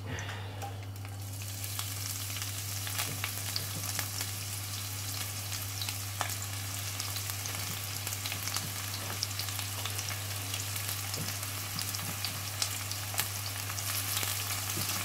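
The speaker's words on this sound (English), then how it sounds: "Just going to add the onions." Onions fry in a warming pan for a vegan aubergine curry, giving a steady soft sizzle with small crackles over a constant low hum, fairly faint and without speech.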